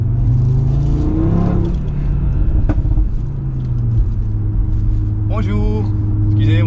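A 400 hp 2018 Audi RS3 drives along a road and downshifts on its own, its engine a close, steady rumble heard from inside the cabin beneath someone talking.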